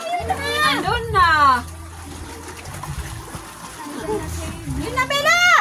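A child jumps into water, and splashes and splatter come in bursts at close range. Excited, high-pitched voices call out over and between the water sounds.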